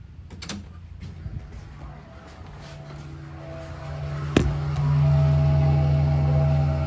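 1977 Chevy Camaro engine catching and settling into a steady low idle after a few clicks and a sharp starter knock, getting louder as it runs, no voices.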